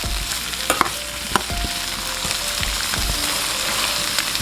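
A spoon stirring sautéing seasoning and vegetables in a pot, with a continuous loud sizzle and repeated knocks and scrapes of the spoon against the pot, no voices.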